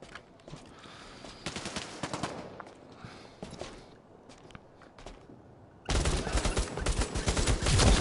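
Gunfire crackles in short, scattered bursts during a firefight in the VR shooter Bravo Team on PSVR. Dense, loud volleys follow near the end.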